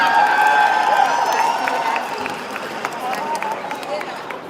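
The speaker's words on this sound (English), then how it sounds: "If you went, you can applaud." Audience at a hip-hop talk claps and cheers in a sustained, fairly loud burst that slowly thins out, with crowd voices mixed in.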